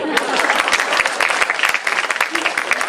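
Dense, steady applause from a poetry recital crowd at a kavi sammelan mushaira, loud and continuous with many overlapping hand claps and no pauses.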